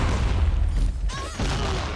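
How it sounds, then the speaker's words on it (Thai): A video game explosion in the shooter XSHOT gives a loud, deep boom with a rumbling tail that briefly cuts out before the game's noise resumes. "โอ้โหโดนระเบิด"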